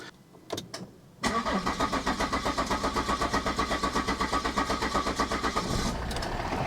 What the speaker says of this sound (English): so I'm going to try firing it up now and we'll see how it behaves